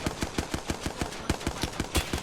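Hemlock burst rifle firing in Apex Legends Season 14 ranked play, a steady run of sharp shots in quick bursts, about a dozen cracks in two seconds, loud and close with no talk.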